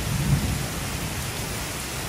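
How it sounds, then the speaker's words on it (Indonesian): Heavy rain pours steadily on a cattle farm in Indonesia, a dense, continuous hiss with a low rumble swelling briefly at the start. "Hujan-hujanan."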